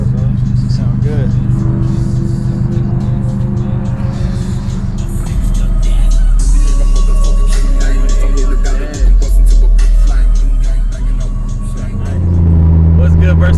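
Car fitted with a full exhaust system revving loudly at a night car meet with dyno runs, deep sustained engine roar rising and falling close by, with voices talking over it.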